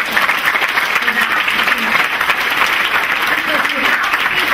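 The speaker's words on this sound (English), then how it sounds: "Let's give him a round of applause for that" Sustained audience applause fills a hall during a school induction ceremony, a dense steady wash of many hands clapping at close range, with faint voices mixed underneath.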